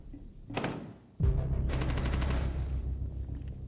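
Pistol fire in Rainbow Six Siege: a sharp game gunshot crack, a brief pause, then a louder sustained burst of shots and action noise that rings on to the end.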